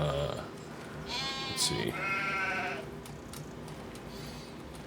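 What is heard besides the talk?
sheep bleating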